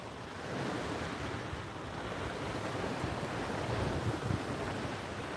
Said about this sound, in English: Some waves coming in. I think that might just be wake from the boats.